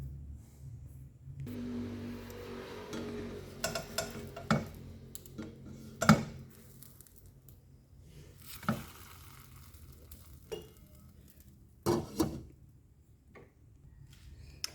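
A pancake cooking in a pan with no oil, giving a faint, quiet sizzle broken by occasional clicks, taps and scraping knocks from the utensil and pan.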